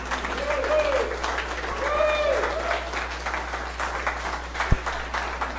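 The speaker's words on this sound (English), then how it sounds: "Thank you, the applause." An audience at a live event applauds Jim Bacon with scattered, uneven clapping, while voices talk over it and a low steady hum runs underneath.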